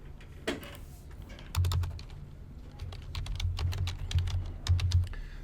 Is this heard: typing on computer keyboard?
yes